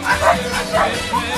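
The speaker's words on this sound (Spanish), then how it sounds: "Mira los perritos del Arnau y la Paula." Puppies give a quick, dense run of high yips and small barks, close and lively, in a brief noisy burst.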